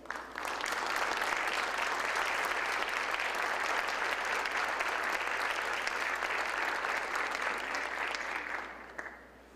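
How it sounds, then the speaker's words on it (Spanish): A university lecture audience in Puerto Rico breaks into sustained, dense applause that holds steady for several seconds before tapering off near the end. "el doctor Juan A. Justi Cordero, al cual pido por favor un fuerte aplauso."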